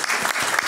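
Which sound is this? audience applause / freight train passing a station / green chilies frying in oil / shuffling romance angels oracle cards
audience applause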